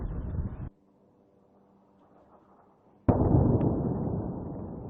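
Explosions from missile attacks in Lebanon: a loud, booming blast cuts off abruptly, followed by a few seconds of faint rumbling and then a second sudden, heavy detonation that roars on.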